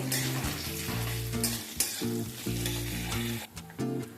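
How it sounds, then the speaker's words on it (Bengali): Coconut pieces fry in a pan for a vegetarian banana-flower curry, with a constant crackling sizzle and occasional stirring bumps under steady background music. "নারকেল ভেজে নেওয়া হয়ে গেলে"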